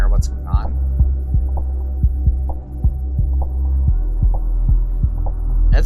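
A 3D printer running with a steady low hum and a regular series of heavy thumping knocks, roughly two per second, loud and close, with a brief voice near the start.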